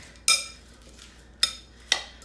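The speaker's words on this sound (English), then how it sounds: "And you just mix this all together." Sesame cucumber salad dressing being mixed in a small bowl, heard as three sharp, close clinks of a utensil against the bowl, spaced apart over quiet background.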